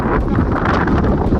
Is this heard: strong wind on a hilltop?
yes